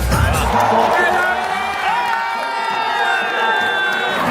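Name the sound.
crowd cheering at Olympic speed skating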